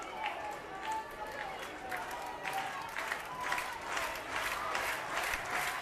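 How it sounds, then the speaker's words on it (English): A college baseball crowd at the Joe, the ballpark hosting Alabama in the bottom of the 11th, roars and cheers in broad swelling waves that rise and fall over several seconds, with no talk above it. "Crowd starts to roar again at the Joe."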